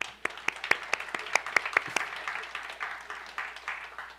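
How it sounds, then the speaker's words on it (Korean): Scattered claps from a church middle-school youth worship congregation, a handful of sharp hand claps at first that thicken into brief, fairly close applause before trailing off, with no talking over it. "박수 한번 할게요."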